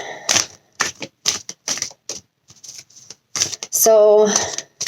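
Tarot cards being shuffled over someone's legs, producing a series of short papery riffling bursts, with a longer louder ruffle near the end; no speech.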